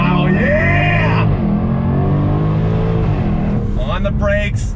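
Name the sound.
2017 Jaguar F-Type SVR engine on throttle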